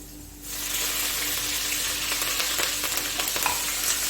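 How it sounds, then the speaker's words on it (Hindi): Ginger and garlic fry in hot oil in a pan, a steady bright sizzle that starts abruptly after a brief quiet moment and continues with light stirring. "इसी में डालूंगी अदरक और लहसुन, थोड़ा सा कुक करूंगी इसको।"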